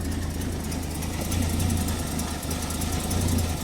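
A 1929 Ford Model A hot rod shop truck with a small exhaust header leak idles low and steady with a continuous rumbling drone, close by and without any voices.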